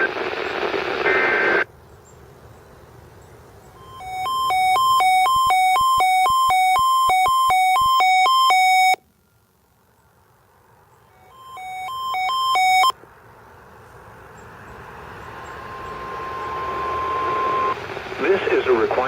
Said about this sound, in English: the National Weather Service's specific area message encoding and tone alarm systems